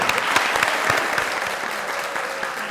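On a television talk show, the studio audience's steady, sustained applause fills the room. It is dense and even and fades slightly toward the end, with faint voices underneath.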